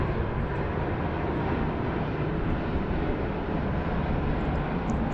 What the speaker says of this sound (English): Here comes Delta. Let's enjoy this. Yeah, beautiful A350 900.